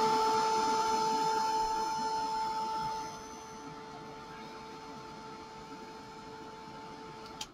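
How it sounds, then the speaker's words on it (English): A heat tool blows hot air to melt embossing powder on a Christmas bauble, a steady whirring hum with a high whine that drops quieter partway through before a short click. "all I'm going to do is heat up the embossing powder"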